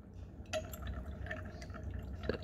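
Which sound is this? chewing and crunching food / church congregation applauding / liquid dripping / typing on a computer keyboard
liquid dripping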